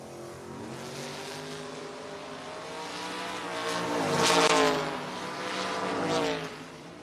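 Drag racing cars, a 1969 Camaro and a 1969 Firebird, roar with engine tones that climb and sweep upward, swelling louder midway, then fading and rising again at a distance, with no talk over them.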